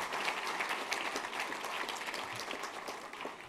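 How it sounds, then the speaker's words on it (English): Audience applause at the MassBio Annual Meeting: a crowd's scattered clapping, soft and distant-sounding, runs continuously and tapers slightly toward the end. "How about a big round of applause for all of our sponsors,"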